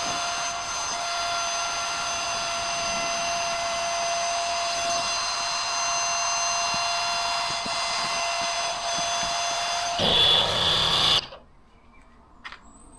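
An AIRBANK rechargeable electric SUP air pump inflates a packraft to 1 psi through a Boston valve, with a loud steady whirring drone and a constant high whine for about ten seconds before it rises briefly and cuts off to near silence.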